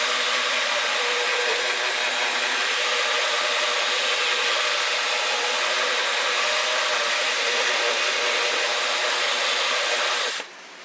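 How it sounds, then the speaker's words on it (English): Power drill boring two holes in a plastic bottle, whirring continuously and loudly for about ten seconds before cutting off sharply at the end, with no voices. "You're drilling 2 holes."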